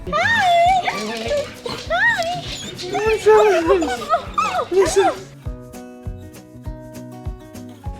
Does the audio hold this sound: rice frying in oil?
no